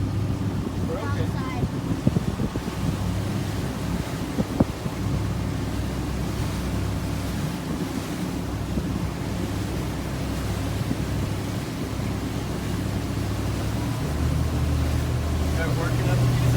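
A boat engine idles in gear at a steady low throttle around 1,500 RPM, a continuous low rumble with a faint knock near two seconds and a slight rise toward the end; voices talk over it.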